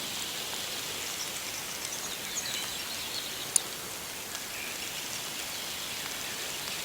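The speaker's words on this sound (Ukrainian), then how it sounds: "Весна, прохолодно, іде дощ." Steady spring rain hisses evenly throughout, a soft continuous patter with no voices and one faint tick midway.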